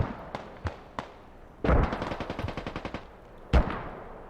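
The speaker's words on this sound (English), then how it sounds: "What is this artillery strike?" A Squad artillery strike lands as a series of sharp, close blasts: a few isolated cracks, then a rapid, rattling burst of impacts, and one final heavy boom.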